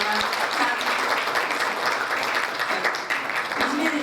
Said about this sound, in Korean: 큰 박수 쳐주세요